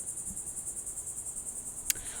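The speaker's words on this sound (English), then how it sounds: "Hope the cicadas aren't too loud." Cicadas buzz close by in a steady, high-pitched pulsing drone that runs the whole time, with a brief sharp click near the end.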